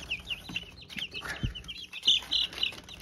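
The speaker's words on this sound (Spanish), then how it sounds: "vamos a ir soltando los pollitos" High, thin peeping from five chicks being let loose, repeated in quick irregular bursts nearby, with a few soft thumps and rustles underneath.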